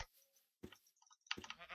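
A sheep in a modded video game gives a couple of short, clear bleats with gaps of quiet between them, heard up close with no talking.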